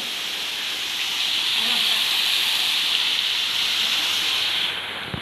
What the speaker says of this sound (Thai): เป็นน้ำตกนะครับนี